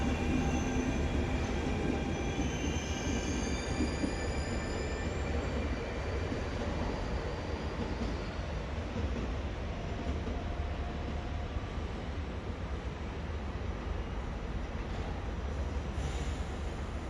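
A train pulls into a platform at Venezia Mestre station, a steady loud rumble of rolling railcars with faint wheel squeal running throughout, no voices.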